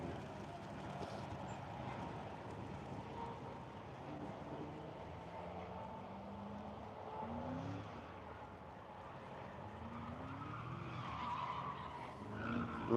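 Tyres squeal and skid as a car slides around a dry skid pad, with long wavering screeches over steady engine noise that runs unbroken throughout and swells slightly at the end.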